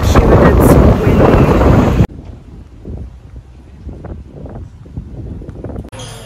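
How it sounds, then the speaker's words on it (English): Strong gusty wind buffeting the microphone on a Tokyo street, loud roaring blasts at first that cut to a quieter, lighter street ambience with faint background sounds. "it's so windy"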